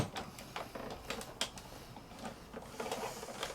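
A Vagabond electric die-cutting machine runs, giving a string of quick mechanical clicks and whirring rattles at close range, uneven in rhythm, with no talk.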